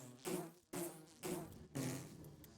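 Bees in the Minecraft video game buzz close by in a quiet, steady drone that pulses in four short bursts.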